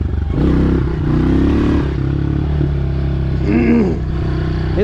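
A 2021 Honda CRF110 dirt bike engine running close by, a steady buzzing drone with small throttle blips and a brief rising rev near the end.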